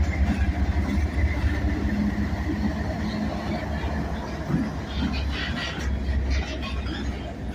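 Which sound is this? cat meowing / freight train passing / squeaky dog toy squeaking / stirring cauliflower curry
freight train passing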